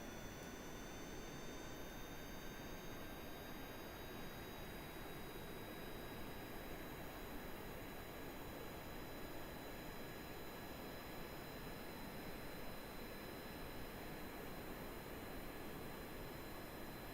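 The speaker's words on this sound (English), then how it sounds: "engines are actually generating some thrust" Plane jet engines in the game Kerbal Space Program throttled up for takeoff; a faint, steady roar with thin high whine tones, holding even and unbroken the whole time, no voices.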